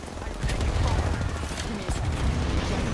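Rapid bursts of gunshots in a shooter video game, loud and close, crowding together into a dense crackle across the few seconds.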